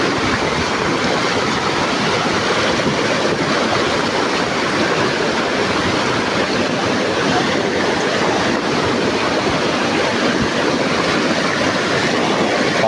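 A flooded river in Magdalena, Laguna, swollen by Typhoon Kristine, rushes past in a continuous, dense roar of churning water that holds at an even loudness throughout.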